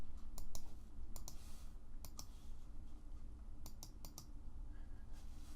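Computer keyboard keys are pressed as several sharp, separate clicks spaced unevenly over a low, quiet background hum.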